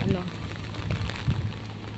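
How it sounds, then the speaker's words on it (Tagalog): Steady rain hisses loudly with gusting wind noise throughout during Typhoon Saola, a dense wash of sound with no talking. "lakas na yung hangin at saka ulan."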